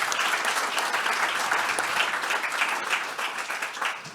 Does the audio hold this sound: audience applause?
yes